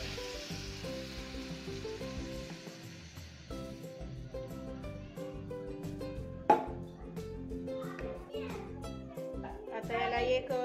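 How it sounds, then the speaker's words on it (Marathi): Vam fish sautéing in masala in a pan before water goes in, a soft continuous sizzle under background voices and clatter, with one sharp knock partway through and the frying swelling toward the end. "चांगले परतून घ्यायचे मसाल्यामध्ये आणि मग पाणी ओतायचं त्याच्यामध्ये"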